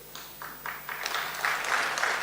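Audience applause at a speech event in Bandra, faint and fairly distant, a rhythmic clapping that swells slightly toward the end.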